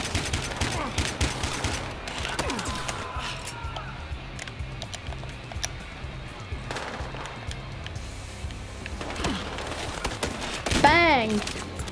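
Gunfire in the video game Battlefield Hardline, with bursts and single shots scattered through the action, along with game effects and people talking over it.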